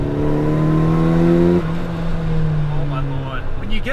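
A Nissan Silvia S13 sports car accelerating, engine tone rising and holding a steady pitch before a gear change drops it, followed by a fading drone with faint tire and wind noise; close and fairly loud.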